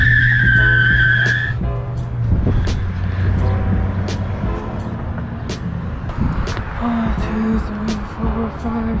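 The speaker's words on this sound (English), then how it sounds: "you can see that we applied hard brake right here. 14, 15, about 16 feet in snow." An ICON i40L small electric vehicle brakes hard on snow, its locked tyres giving a loud, near skidding squeal and scraping rumble that fades to a low grinding hum as it slows.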